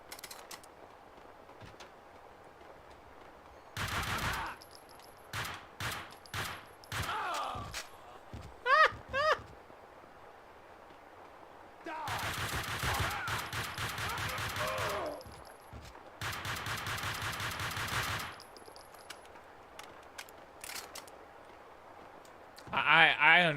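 Bursts of gunfire from the Max Payne video game: scattered single shots, then two longer rattling volleys in the middle, over a low background drone.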